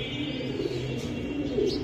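Pigeons, milk-khaki birds kept by a high-flying Giribaz fancier, coo softly and steadily in a low murmuring drone, close by, with faint chirps over a constant background hum.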